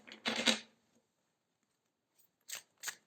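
Tarot cards being shuffled by hand produce a short burst of crisp riffling flicks, then a pause, then two quick card snaps, close and dry in a quiet room.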